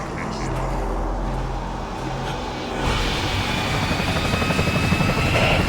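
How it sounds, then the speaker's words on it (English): Helicopter in the Resident Evil 4 video game, a steady rotor thump that swells louder partway through as it draws closer, with a low engine drone underneath. "The helicopter comes to support once again."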